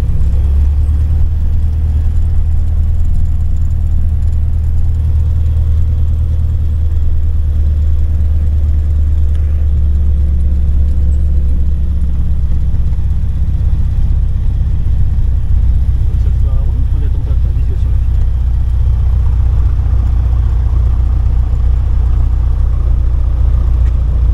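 The engine of light aircraft F-GCAR idles with a steady low drone while it taxis toward the runway, loud and continuous, with people talking over it.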